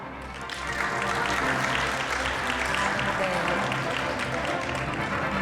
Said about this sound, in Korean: 여러분 다시 큰 박수 부탁드리겠습니다